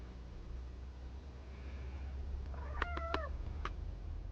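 A cat meows several times in a quick cluster of short, clear calls close by, followed by one more brief meow, over a faint steady background hum.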